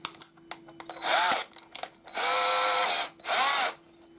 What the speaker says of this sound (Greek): Να δοκιμάσω και με ένα τρυπάν τύπου Forstner, είναι στα 42 χιλιοστά